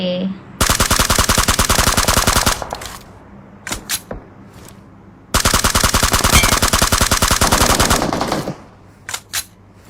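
Rapid automatic gunfire in PUBG Mobile comes in two long, loud bursts with a few single shots between and after them.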